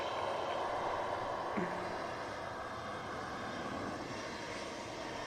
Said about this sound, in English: Ryanair on the departure road.